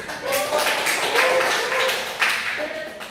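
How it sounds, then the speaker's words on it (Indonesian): A classroom of students claps hands in a short, steady burst of applause that fills the room, with a few voices talking over it. "Oke, bisa beri tepuk tangan."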